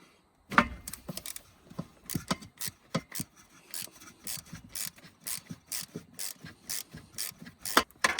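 Ratchet loosening a bolt on a car: a steady train of rapid pawl clicks in short bursts, close and clear, with brief pauses between strokes.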